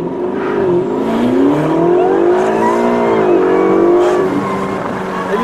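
A twin-turbo Ferrari with 560 horsepower revs hard on a street, its loud engine note climbing and falling in one sustained close-up rev lasting several seconds, with no talk.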